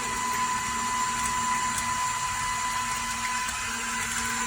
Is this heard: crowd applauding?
no